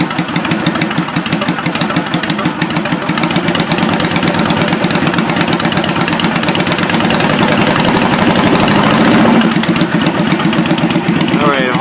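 A 2008 Yamaha V-Star 650 motorcycle runs close by, its engine idling and revving in a continuous loud rumble, with a voice talking over it.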